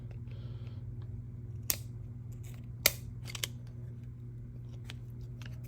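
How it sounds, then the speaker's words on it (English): Cutters snipping through hard plastic, a few sharp crisp clicks spaced apart over a steady low hum in a quiet room. "Cut the plastic, okay."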